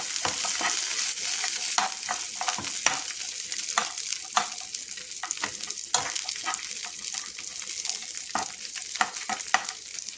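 Food frying in a pan, a steady sizzle with frequent scraping and stirring strokes throughout, close and fairly loud with no voices.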